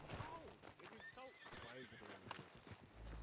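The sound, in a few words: horse neighing and hooves in a Red Dead roleplay video game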